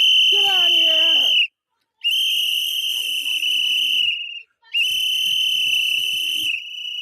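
Shrill whistles blow loudly in three long sustained blasts separated by brief pauses, the first with a faint voice underneath.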